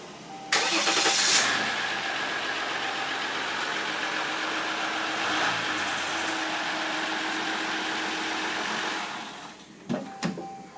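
A RAM EcoDiesel diesel truck cranks briefly and fires up, settling into a loud, steady idle that runs for several seconds before being cut off with a few thumps.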